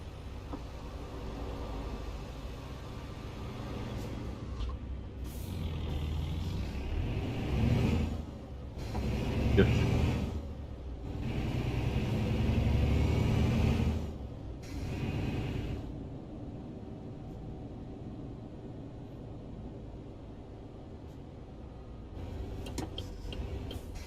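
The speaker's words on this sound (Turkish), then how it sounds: "Trafik gene akıyor abi" Road traffic flows past a moving vehicle, a steady car and engine hum with passing swells and occasional rushes of nearby vehicles, moderately loud and continuous.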